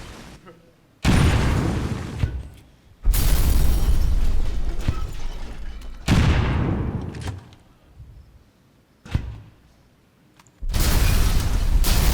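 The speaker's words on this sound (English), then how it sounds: "They can launch a lot of grenades." In the video game XCOM 2, a Grenadier launches grenades that burst into a run of heavy, loud explosions, each long booming blast rolling off slowly, while people talk over them.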